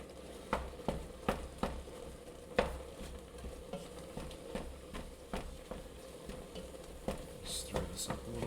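Ground meat browning for chili gets stirred and broken up in a pan, with a steady faint sizzle and irregular scraping taps of the spoon, fairly close and fairly quiet.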